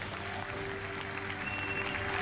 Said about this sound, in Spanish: Esta ovación de pie. La gente se pone de pie